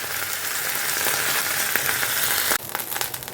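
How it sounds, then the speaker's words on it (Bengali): Ingredients fry lightly in a pan with a dense, steady sizzle that suddenly drops and turns patchier and crackly for the last second or so, close and loud with no talking. "একেবারে কড়কড়ে করে লাল করে ভাজার কোনো দরকার নেই, একটুখানি আমি ভেজে নিচ্ছি"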